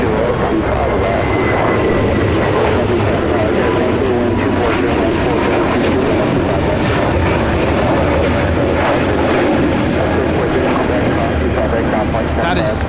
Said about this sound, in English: That is Spirit Airlines 1273 taking off to San Antonio on the A321neo.